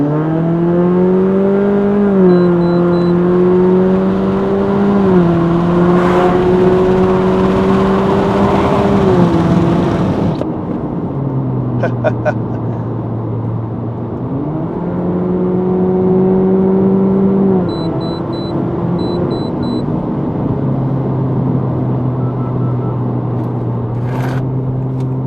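A tuned Honda Civic 1.5 in Sport Mode accelerates hard, its engine note climbing steadily, then dropping abruptly at each simulated gear shift before rising again, loud and close from the cabin.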